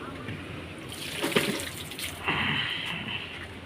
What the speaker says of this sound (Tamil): அதுக்கு முன்னாடி நம்ம செடிக்கு தண்ணி ஊற்றிடுவோம்